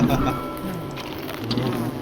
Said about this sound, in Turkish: Arılar arılar.